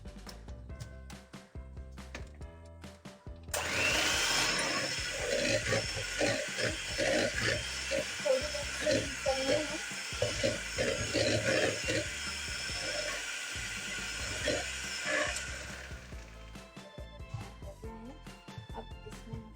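An electric beater whips marble cake batter, starting abruptly with a loud steady whir and rhythmic churning that runs for about twelve seconds before stopping, with quiet kitchen background before and after.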